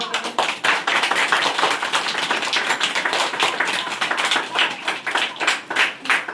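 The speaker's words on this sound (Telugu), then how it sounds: "పిల్లలందరూ చప్పట్లు కొట్టండి అమ్మా" Children clap together in a dense, steady burst of many overlapping claps that carries on loud and continuous, with no talk over it.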